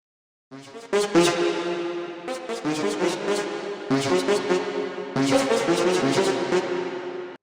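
A gritty, saturated resampled synth chop, pitched down with reverb, plays in repeated phrases, dense and distorted with a thick low end, loud and continuous with brief breaks between bursts.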